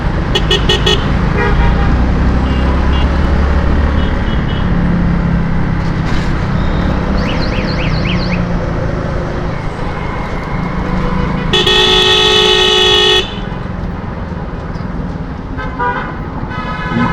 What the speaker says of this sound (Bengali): তো আবার জ্যাম কেন